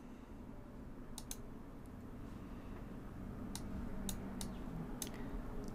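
Computer keyboard keys are tapped to enter a Windows 10 PowerShell command, a few light, close clicks in small clusters over a faint steady background hum.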